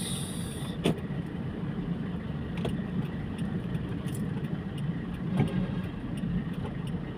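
Road traffic on Tandang Sora in the Philippines, heard from a delivery vehicle as a dense, steady rumble of engines with a few brief clicks and knocks.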